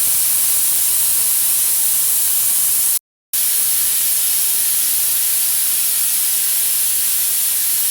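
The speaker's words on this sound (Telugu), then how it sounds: "ఇది 2వ విజిల్స్ అండి." Close, loud and sustained steam hiss from a pressure cooker whistle while dal cooks, a steady rushing jet that drops out briefly and then carries on unchanged.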